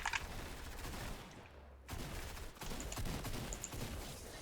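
Pistol gunfire in a video game crackles in a rapid string of sharp shots mixed with other combat noise, fairly faint overall with a brief lull in the middle.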